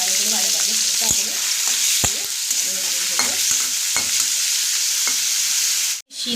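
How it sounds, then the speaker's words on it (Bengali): Tiny kachki fish crackle in hot oil, a constant close sizzle punctuated by regular taps and clinks of a utensil stirring the pan, ending in a sudden brief dropout. "তেলটা গরম হয়ে গেছে, আর মাছগুলো আমি হালকা করে ভেজে নেব।"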